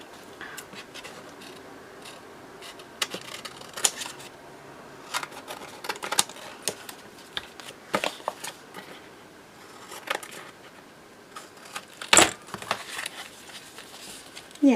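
Scissors snip around a glued book page in a series of short, close crisp cuts with irregular pauses, mixed with paper rustling and a few sharper clicks.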